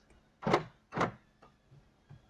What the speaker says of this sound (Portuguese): Aqui a gente tem mais um botão de travar as portas, escuta só o barulho que faz.